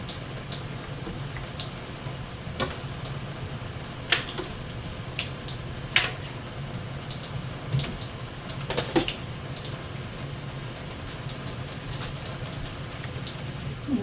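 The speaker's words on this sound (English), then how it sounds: "Let me rinse my hands off." Running kitchen tap water splashes steadily as hands are rinsed at a sink, a continuous close hiss with a few sharper splashes and clinks over the flow, no talking.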